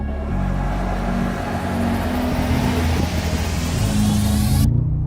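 A 577-horsepower Mercedes-AMG G 63 accelerates hard from a launch with a loud, sustained engine roar that climbs steadily in pitch before cutting off abruptly.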